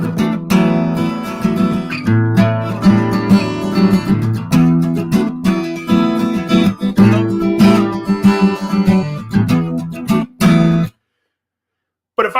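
Guitar plays the chorus of a song, a dense strummed and picked passage that continues for about ten seconds before stopping abruptly.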